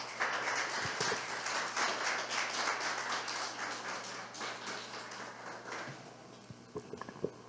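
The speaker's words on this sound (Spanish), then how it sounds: "Denle una ofrenda de aplausos al Señor" A church congregation applauds, giving a sustained wash of dense clapping that thins toward the end into scattered claps, with a faint low hum underneath.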